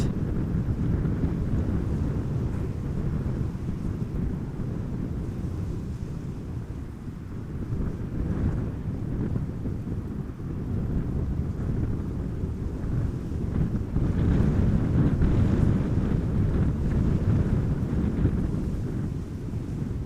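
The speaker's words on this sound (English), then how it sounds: "Careful that the wind doesn't blow the camera too far to the right." Strong gusty wind buffeting a camera microphone outdoors at Amsterdam Schiphol Airport, a loud low rumbling roar that swells and eases in waves for the whole stretch.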